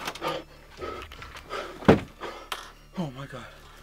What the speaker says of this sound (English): Guys, I'm gonna lock that door.